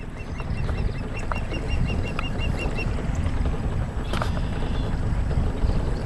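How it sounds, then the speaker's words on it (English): An osprey calls faintly in a short series of high, evenly spaced notes over the steady rumble of a boat motor and rushing water on a creek. "you can hear the osprey calling"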